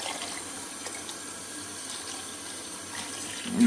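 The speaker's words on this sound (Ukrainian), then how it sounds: "Набираємо води." Water running from a tap into a container in a kitchen, a steady close splashing stream that keeps on without a break.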